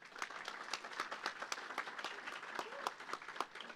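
Conference audience at a tech center summit applauding the startups, a sparse, faint patter of individual claps spread across the room, fairly distant and steady throughout.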